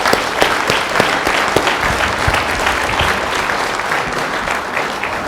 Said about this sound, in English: Can we please give a round of applause for Reverend Jeremiah Wright?